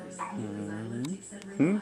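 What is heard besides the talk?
dog barking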